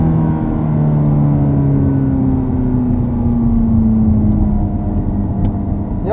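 A Ferrari F430 on the wet Hallett Motor Racing Circuit holds a loud, steady engine drone with slowly shifting pitch, a low sustained roar close by throughout.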